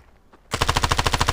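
After a brief quiet moment, a rapid burst of automatic gunfire erupts in the video game Standoff 2, about a dozen evenly spaced loud shots in quick succession.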